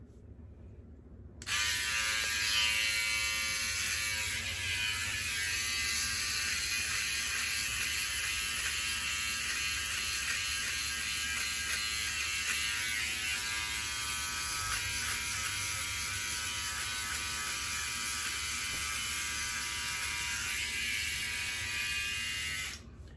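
A OneBlade electric razor dry shaving, its close, steady high buzz switching on abruptly and running unbroken for about twenty seconds with faint rasping of stubble, then cutting off.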